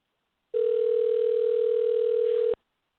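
A steady telephone tone on a call waiting to be answered during a live wrestling talk show, heard as one continuous unbroken tone lasting about two seconds, loud and alone.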